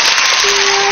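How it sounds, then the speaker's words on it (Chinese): A stage audience claps for a televised singing performance, a brief dense burst of applause as a sustained sung note begins underneath. "大家掌声欢迎好不好"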